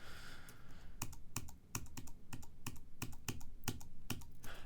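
Steady typing on a computer keyboard, crisp key clicks in an uneven rhythm with a few louder strikes, close up and with no voices.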